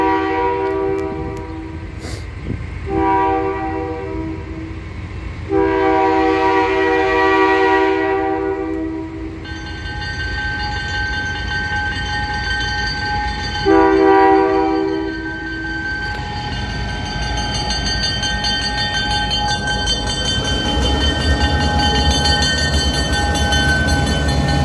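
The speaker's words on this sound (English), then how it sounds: "Here comes the R train." VIA and CN trains meet and pass, with repeated loud horn blasts sounding in bursts over a continuous rumble of rolling cars and engines. The long pass builds to a denser roar near the end, with no voices.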